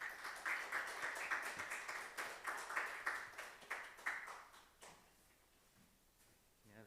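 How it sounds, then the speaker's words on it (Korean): A church congregation claps in welcome during a Sunday service, with a rhythmic round of hand claps from the room that fades out after about five seconds into quiet. "박수로 우리 환영합시다."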